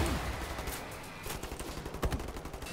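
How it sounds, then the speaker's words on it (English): Rapid bursts of gunfire from the video game Wolfenstein: The New Order, dense and close, with sharp cracks repeating in quick succession. "He just shot me so many times in the back."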